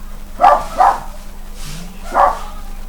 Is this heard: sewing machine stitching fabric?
no